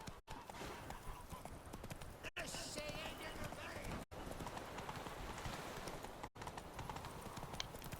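Roach, the horse in The Witcher 3, gallops with rapid, steady hoofbeats close by, over a dense game soundscape with speech.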